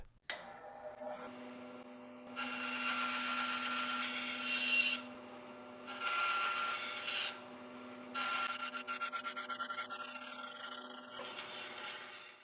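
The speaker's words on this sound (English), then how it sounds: "Here on the bandsaw, I'll make some notches at the ends, reducing the wood's thickness to 20 millimeters at these notches" A bandsaw cuts notches into the ends of a 23 mm wooden piece, taking it down to 20 mm thickness against a depth stop. A steady motor hum runs throughout, broken by three loud, rasping cutting passes of a few seconds each.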